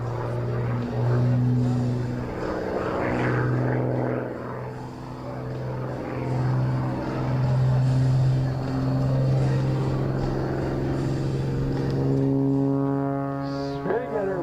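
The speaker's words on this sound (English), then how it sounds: "Spinning that airplane around and rolling at the same time." Rob Holland's aerobatic airplane performs a rolling spin at a Geneseo, NY airshow, its engine droning and pulsing as it rotates, with a rising pitch sweep near the end. A crowd murmurs and an announcer talks over it.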